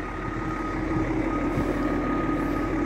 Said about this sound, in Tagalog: Sira yung truck na yun. Ayaw gumana yung atras.